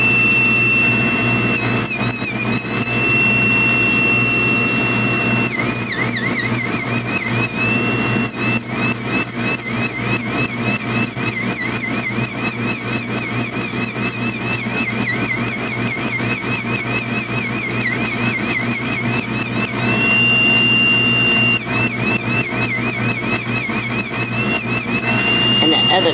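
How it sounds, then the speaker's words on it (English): A dust collector blower runs steadily throughout while an emu egg is carved with a rotary tool, its constant drone underlying high squealing tool whine that rises and drops in bursts. "So I always have my dust collector running."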